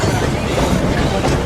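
Walt Disney World Railroad train running on its track, a steady, loud rumble of wheels and rolling cars filling the ride continuously with no clear breaks.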